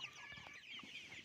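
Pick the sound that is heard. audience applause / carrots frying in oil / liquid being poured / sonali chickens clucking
sonali chickens clucking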